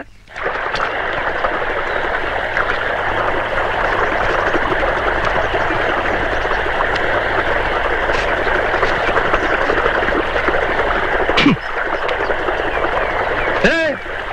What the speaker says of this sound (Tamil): எவ்வளவு தண்ணி போகுது, பம்பு செட்ல யாரா இருக்கா தெரியலீங்கய்யா